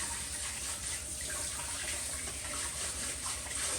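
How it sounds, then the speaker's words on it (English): Water gushes steadily from a kitchen tap as hands are rinsed under it, a continuous close splashing rush with no talking. "Rinse my hands off."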